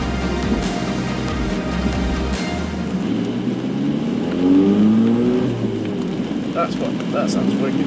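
A modified Ford Fiesta with coilovers and anti-roll bars revs and pulls away from a garage, the engine note rising and swelling at mid-distance before settling, with no talk over it.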